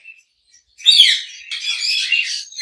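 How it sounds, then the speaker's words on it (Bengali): Lovebirds at a bird shop chirping in quick, overlapping high-pitched bursts, fairly close, after a brief quiet start, with no talking. "এখানে বেশ কিছু লাভবার পাখি দেখতেছেন"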